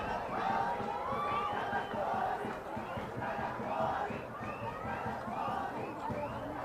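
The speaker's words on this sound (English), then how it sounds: "Crowd getting very animated." Spectators at an under-16 rugby match between school sides shout and cheer together, a dense, continuous roar of many voices with chant-like rising calls, loud and sustained throughout.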